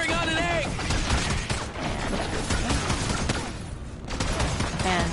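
Dense, continuous volleys of gunfire in a video game rattle without pause, loud and close, with a voice speaking underneath the shooting.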